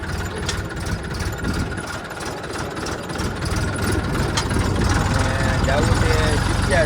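A tractor engine idles with a steady, close low rumble that grows slightly louder and fuller toward the end, while someone talks over it.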